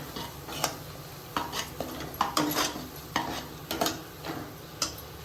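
Coconut paste and rice flour being stirred in a pan for a vegetable kurma, with soft sizzling and repeated scraping strokes of a spoon against the metal, fairly close and steady, no talking.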